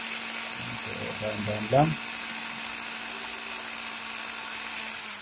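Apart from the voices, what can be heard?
power drill drilling a hole in a refrigerator freezer door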